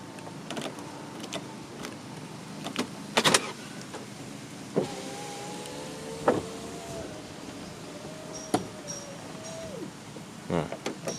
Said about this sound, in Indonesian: fitur kacanya naik sendiri saat kalian kunci pakai kunci itu masih bisa nih